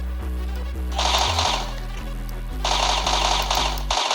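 Automatic rifle from the gamingbarn's guns mod in Minecraft firing in two rapid sustained bursts, loud and close, a dense mechanical rattle with a brief pause between bursts and a final short shot at the end.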